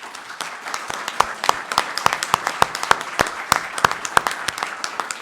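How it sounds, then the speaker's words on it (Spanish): An audience at a formal academic incorporation ceremony claps in a steady burst of applause, a dense run of sharp hand claps, close and fairly loud, with no speech over it. "darle un caluroso aplauso a nuestra querida Lucía Fraca de Barrera."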